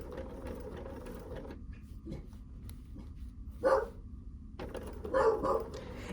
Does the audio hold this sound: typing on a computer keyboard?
no